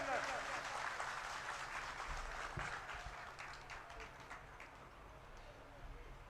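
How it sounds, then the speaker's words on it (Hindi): Applause from party workers at a Congress workers' conference in Taranagar, a steady, moderately distant wash of clapping that carries on under someone speaking over a public address system. "जोरदार तालियों से अभिनंदन"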